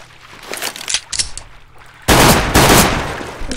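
Gunfire in Counter-Strike: Global Offensive on a surf map: a few short, sharp shots at first, then a loud, dense volley of rapid fire that runs to the end.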